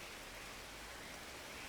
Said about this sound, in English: Yeah, good torrential rain.